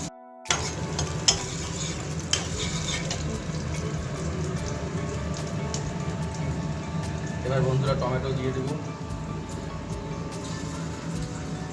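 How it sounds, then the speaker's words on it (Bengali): Whole cumin seeds and two dried chillies sizzle in hot oil for a Bengali chicken jhol, a steady close crackle running throughout beneath a voice. "গোটা জিরে দুটো শুকনো লঙ্কা দিয়ে দিচ্ছি"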